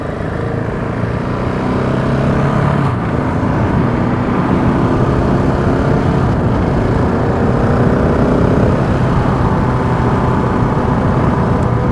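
A Husqvarna 701 Enduro single-cylinder motorcycle engine runs steadily on its first road ride, a loud continuous drone with rising and falling pitch as the throttle changes, close to the microphone and without talk.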